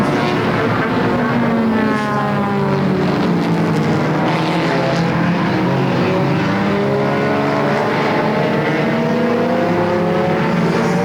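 Race cars roaring around Flamboro Speedway during a Halloween Enduro 250, a continuous loud pack of engines with rising and falling pitch as cars sweep past, no voices.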